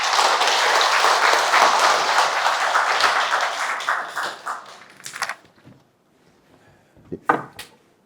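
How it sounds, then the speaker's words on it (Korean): Audience applause at a creditors' association's first official event, a dense steady clapping that thins out after about four seconds into scattered claps and a few isolated taps near the end. "다시 한번 박수 부탁드립니다."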